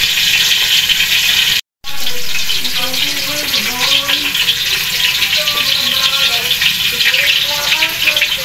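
Small dulong fish cook in a pan with garlic and onion, giving a steady loud sizzle throughout, broken by a brief dropout, with a faint voice in the background.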